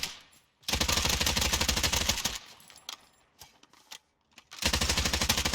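Rapid automatic gunfire in the Warzone video game comes in two long, loud bursts of fast, even shots, separated by a quieter stretch with a few scattered clicks and single shots.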